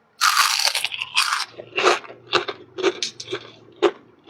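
Crispy fried tofu cut into small pieces is bitten and chewed, giving a close, loud crunch followed by a string of sharp, crackly chewing bursts with no talking.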